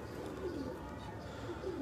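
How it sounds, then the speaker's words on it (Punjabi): Red-eyed fancy pigeon cooing, soft low repeated coos at close range in a short steady stretch, with faint background noise and no clear talk. "ਬੜਾ ਅੱਛਾ ਸ਼ੌਕ ਵਾਲਾ ਕਬੂਤਰ ਹੈ"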